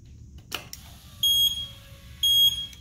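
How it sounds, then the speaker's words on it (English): At key-on, a MerCruiser or Volvo Penta MEFI marine engine alarm gives two short, piercing electronic beeps about a second apart, just after a soft click, in an otherwise quiet space. "When you first turn the key on, the first thing you should hear is you should hear the alarm tone."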